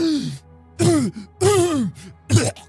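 A voice imitates harsh, wet coughing in several bursts, with short gaps between them; close and fairly loud, with no other sound.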